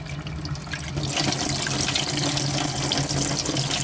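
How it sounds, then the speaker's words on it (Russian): Water gushes steadily through a ceramic-cartridge water filter after a brief quieter start, a loud continuous splashing rush that fills the rest of the clip. "Давайте пустим воду"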